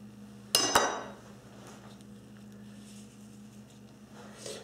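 A knife cuts through a potato wrapper on a kitchen board, one sharp clattering strike followed by a quieter second knock, then a low steady hum.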